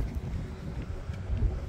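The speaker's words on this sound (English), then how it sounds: "It's a little windy here today." Steady wind buffeting the microphone at a funfair midway setup in Esquimalt, a low rumbling gust noise that swells and eases throughout, with no voices.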